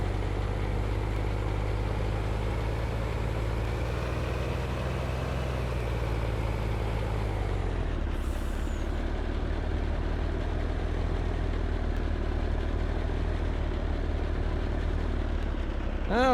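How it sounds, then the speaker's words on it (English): A fuel truck's engine runs in Farming Simulator 19, a steady close rumble that dips in pitch midway and carries on evenly, with a short bright click near the end. "Probably because we're driving a fuel truck."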